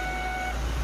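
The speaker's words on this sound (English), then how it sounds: "seatbelt notification." A Chevy Traverse seatbelt warning chime sounds inside the car while driving, a steady electronic beep tone holding through the moment over low engine and road hum.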